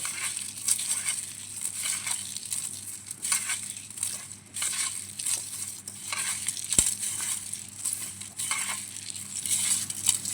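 Raw ingredients for a Rayalaseema-style pachhi pulusu squished and crushed by hand in a bowl, a wet, rhythmic squelching and crinkling that repeats steadily at close range without talk.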